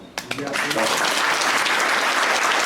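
Dense applause from a concert audience at a Bessarabian Ukrainian ensemble performance, starting with a few scattered claps and swelling quickly into sustained, steady clapping that fills the whole stretch.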